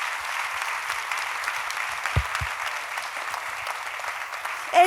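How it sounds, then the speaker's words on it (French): Audience applause for the designers at a fashion show, a steady wash of many hands clapping, moderately loud and sustained, with a brief voice at the very end. "On peut les applaudir, effectivement,"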